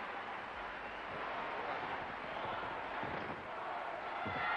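Crowd cheering in an arena at the 1983 World Gymnastics Championships, a broad, steady roar of applause and voices held throughout at a fairly loud, even level.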